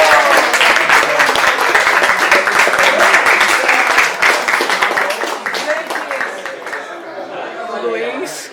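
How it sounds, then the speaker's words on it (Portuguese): Applause and clapping at a home gathering break out loudly, mixed with chatter and a few chuckles, then slowly thin out toward the end. "uma salva de palmas pro Enio!"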